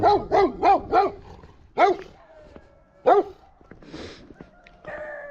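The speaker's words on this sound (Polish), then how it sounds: "Pies mi się trochę denerwuje." A dog on a forest mountain walk near a wayside shrine barks four times in quick succession, then gives two more single barks after pauses, close and loud, with a faint whimper and rustling in between.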